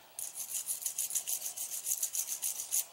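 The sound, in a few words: scrubbing with a stainless steel brush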